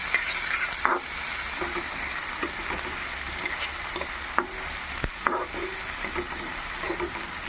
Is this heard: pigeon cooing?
no